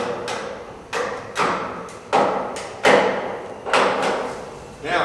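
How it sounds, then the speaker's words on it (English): An Eagle storage and service lift lowers a vehicle after its safety latches are released, giving a series of heavy clunks and thuds at irregular intervals, each followed by a short rumbling settle, fairly close and loud with no talking. "I can release the handle and allow the lift to go down the rest of the"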